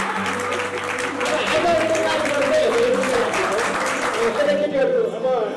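A group of people at a village Christian wedding gathering in Dhading claps together in steady applause, with voices and chatter mixed in under the clapping.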